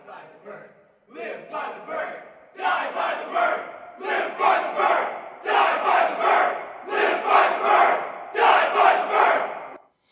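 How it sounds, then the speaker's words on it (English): A stadium crowd recorded for a sports video game chants in rhythmic bursts, cheering a team name in repeated loud swells with brief pauses between phrases. "And we had various chants that the crowd could go into."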